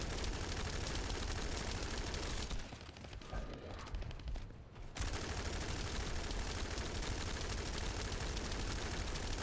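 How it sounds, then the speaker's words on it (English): Sustained gunfire in the shooter game The First Descendant, a dense, continuous stream of shots that briefly drops away for a couple of seconds before resuming just as loud. "I'm gonna do nothing but shoot him."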